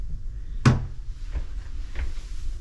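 A cabinet or drawer in a cruise ship cabin bangs shut once, sharp and close, followed by two softer knocks of wood settling, with quiet room tone between.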